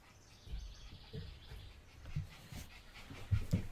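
Rapid, breathy panting from a nearby dog, with soft snuffles and a few faint chirps in the background.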